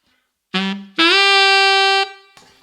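A solo saxophone plays a short note, then a longer sustained note that starts slightly flat and slides up into pitch, clear and close.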